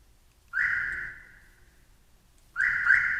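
A car alarm arming with two loud, steady electronic tones, each lasting about a second or more and separated by a short pause.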